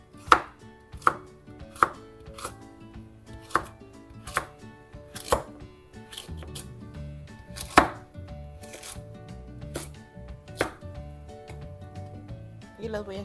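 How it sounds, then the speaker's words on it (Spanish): Knife chopping vegetables on a cutting board for a beef stew, sharp irregular chops that come close and clear, sometimes in quick runs and sometimes spaced apart, under soft background clatter. "Ahora sí las voy a estar picando así como de ladito."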